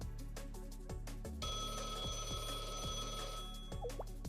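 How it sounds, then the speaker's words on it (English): A phone rings in the video game Blue Archive, a repeating electronic ringtone over steady game music and effects. "A phone call now."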